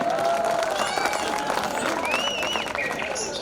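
An audience at a Hindi comedy and poetry gathering in Ujjain applauds, a continuous wash of clapping and cheering from a large crowd, with whistles cutting through near the end.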